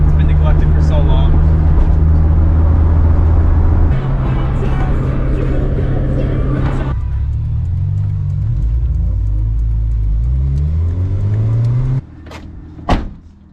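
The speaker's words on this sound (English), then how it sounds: "finally got the car up to speed on a pretty open road" Car engine droning steadily at speed on an open road, loud and close with deep low rumble and a shifting engine note, then fading out near the end.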